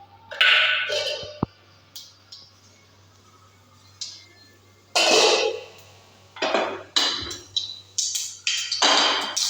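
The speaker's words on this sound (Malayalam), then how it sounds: "അപ്പോൾ കടുക് പൊട്ടി വരുന്നുണ്ട്." Mustard seeds popping in hot oil in a pan while cooking spring onion stalk thoran, with bursts of sharp crackling and spattering in irregular clusters and a quieter stretch in the middle, fairly close.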